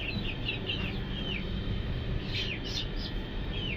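Native chickens in a new coop give short chirps and soft clucks over a constant low rumble of background noise, the calls coming in small clusters, moderately near.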